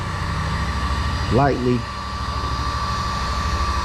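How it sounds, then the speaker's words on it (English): A heat gun blows hot air in a steady, loud roar while it works over a PereGuard keel guard on a Pelican Bass Raider kayak. A brief rising voice-like sweep cuts through midway. "So using the heat gun, I'm gonna kind of lightly"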